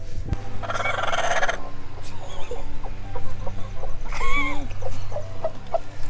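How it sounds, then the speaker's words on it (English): A broody hen clucks and makes drawn-out, complaining vocal calls, close by, in bursts over a steady low background hum. "So this is our broody hen."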